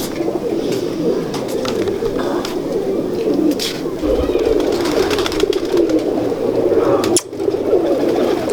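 Golden pigeons cooing nearby in a steady, overlapping stream of soft calls over a busy background, with faint voices in the distance.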